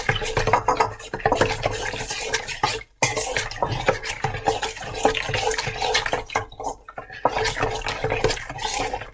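Milk being stirred steadily into a lye solution while making soap, giving a continuous wet swishing and sloshing with small clinks of utensil against container, close and fairly loud, with one brief pause.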